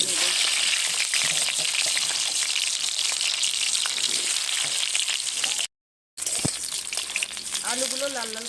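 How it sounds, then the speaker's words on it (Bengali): Potatoes frying in oil in a wok, a loud continuous crackling sizzle heard up close, broken by a short silent cut, then the frying resumes with a faint voice underneath. "আলুগুলো লাল লাল করে ভেজে নেব।"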